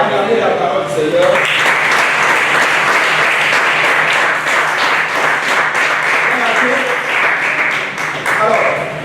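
A church congregation gives a sustained round of loud applause and cheering for the word of the Lord at a worship retreat session. Voices call out beneath the dense clapping throughout.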